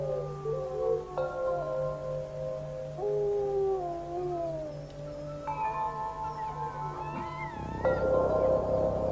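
Several wolves howling together in a cold northern forest, long overlapping wavering tones rising and falling, with a low steady drone beneath and a swell near the end.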